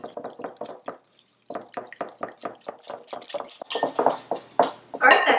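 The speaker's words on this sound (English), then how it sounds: "Then mix until combined." Muffin batter with sour cream and vanilla extract stirred in a bowl, giving a steady run of short, close scraping knocks of spoon against bowl, picking up into louder, busier clatter toward the end.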